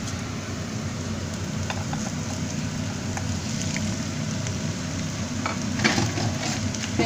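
Chicken sizzles and fries steadily in a pan over medium heat for a chicken risotto, a continuous close crackle with occasional stirring scrapes.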